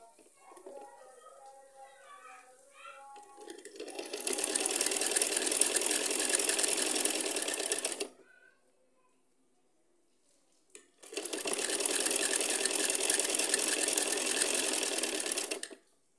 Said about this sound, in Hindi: इस तरह से हम सिलाई लगा लेंगे